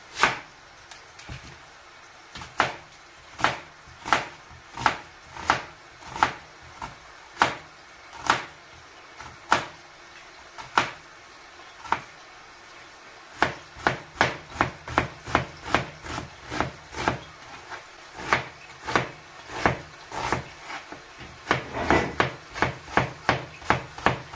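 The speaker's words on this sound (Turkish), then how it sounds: "2-3 adet soğanımız var burada. Bunları da doğrayacağız." An onion is chopped with a knife on a board in a home kitchen, giving a long run of sharp, close knocks, first at a slow steady beat and then quicker and denser toward the end, with no talk.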